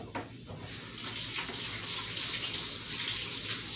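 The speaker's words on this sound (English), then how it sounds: "Let me wash my hands." A kitchen tap runs steadily as hands are washed beneath it, a close, continuous rush of water with slight splashing shifts and no talking.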